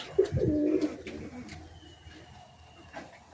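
Pigeons in a home coop, Kaldom pigeon chicks among them, give a close burst of cooing at the start, then it fades to a faint background murmur.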